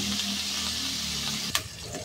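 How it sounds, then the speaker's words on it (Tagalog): Potato and carrot pieces frying briefly in a pan for chicken afritada, a steady close sizzle with a sharper clatter or splash near the end, no talking. "Iprito mo ng sandali ang patatas at carrot para hindi siya madurog."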